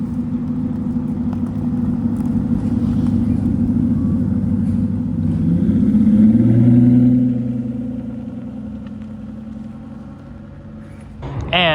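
An Aston Martin Vanquish Zagato starts up at an outdoor car week show, a low mid-pitched engine rumble that swells to a brief rev around the middle and settles back to a steady idle.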